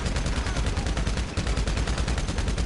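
Rapid gunfire from GTA Online rattles in dense, loud bursts, close and continuous, with shots stacked almost without pause throughout.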